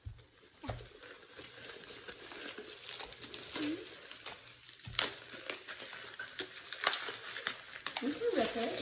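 Packaging being torn and crinkled open around a set of six JoyJolt tall drinking glasses, with irregular ripping and rustling bursts, faint at first and busier later, while people speak quietly nearby.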